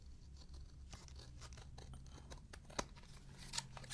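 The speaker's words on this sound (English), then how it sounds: "These are very sharp scissors" Close, quiet snips of very sharp scissors trimming around paper laid on cardboard, a series of crisp irregular cuts with a couple of sharper clicks, no voices.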